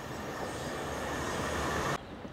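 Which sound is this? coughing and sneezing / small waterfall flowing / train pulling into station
train pulling into station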